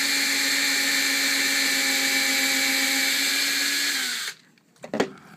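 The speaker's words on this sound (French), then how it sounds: "Je perce maintenant le carré." A power drill bores through a square metal tube while building an articulated camera arm, a steady high whine with strong harmonics running for about four seconds, then winding down and stopping, followed by a brief clatter.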